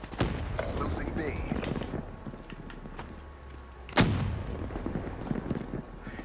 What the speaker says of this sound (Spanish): Si ven cómo están cayendo las granadas